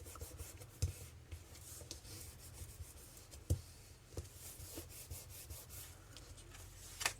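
Soft, steady rubbing and scraping as a paper fold is creased by hand, with a few sharper taps and scuffs scattered throughout, close and quiet with no talking.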